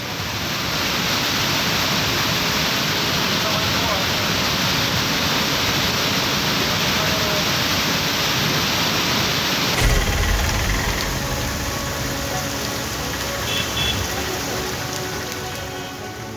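Heavy rain and rushing floodwater at Kedareshwar temple in Ratlam, a loud, steady broadband roar that shifts slightly partway through, with no clear voices.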